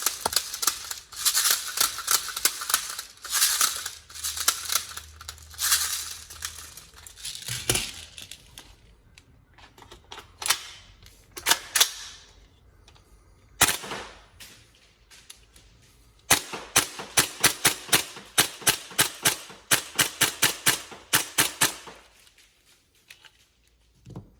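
An upgraded Tokyo Marui MTR16 gas blowback airsoft rifle fires in rapid close strings of sharp cracking shots with mechanical clacks, separated by short pauses and quiet handling.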